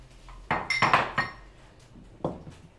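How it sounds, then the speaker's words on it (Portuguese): Thick eggless, milkless cake batter poured from a bowl into a greased, floured cake pan, with a few close clinks and scrapes of utensil against bowl and pan in short bursts, with no talking. "Nós vamos despejar a nossa massa aqui."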